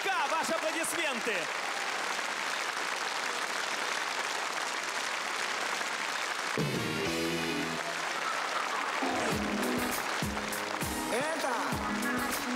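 Concert audience applauding after two singers perform, a dense steady clapping that carries through, then music with bass beats and singing comes in over it partway.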